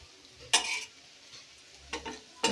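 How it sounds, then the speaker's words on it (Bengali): Shrimp being stir-fried on a tawa, with a soft sizzle underneath sharp scraping and clinking strokes of a metal spatula that come in a few separate bursts. "দেখুন চিংড়ি মাছগুলো ভুনার জন্য হলো তাওয়ার মধ্যে দিয়ে দিছি"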